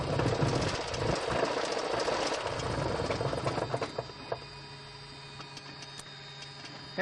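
Musketeer light airplane piston engine running at about 1,000 RPM, a steady rough mechanical chug with knocking pulses, busier at first and then settling into a quieter, even idle.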